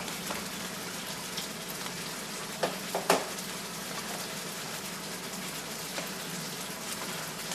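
Sheep backstrap frying in a pan, a steady dense sizzle throughout with a few soft scraping stirs and clinks near the middle, close and even in level, no talking.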